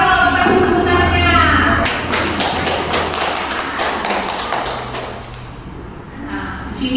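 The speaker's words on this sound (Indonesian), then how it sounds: "Yang keras kalau tepuk tangannya." Loud audience applause at a school teacher training session, many hands clapping in a dense burst for several seconds, with voices mixed in before and after.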